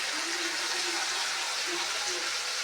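Water being poured into an egg, potato and soya bean curry, a brief steady gushing pour that stays close and fairly loud for a couple of seconds.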